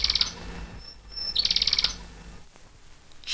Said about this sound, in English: A yellow canary in a golden cage. Just listen to him sing.